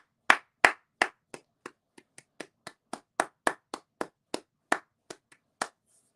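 Applause in a stadium for Michael Bradley as he walks off the BMO Field pitch for the final time: about twenty sharp, separate claps in an uneven rhythm, close and fairly quiet, fading out at the end.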